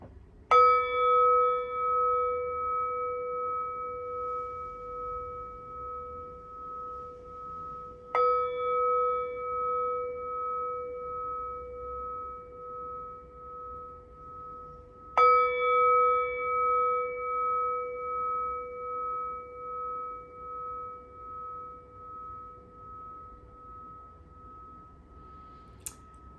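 Singing bowl struck for sound healing, three separate strikes about seven seconds apart, each giving a clear bright ringing tone with overtones that hums and slowly fades, close and alone in a quiet room.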